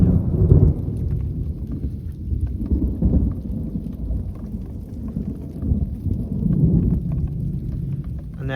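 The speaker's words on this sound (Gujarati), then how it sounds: "જોરદાર મિત્રો વરસાદ પડ્યો છે" Heavy rain with thunder over a flooded farm field, a deep rolling rumble swelling and fading repeatedly under a steady wash of rainfall, close and loud, with no voices.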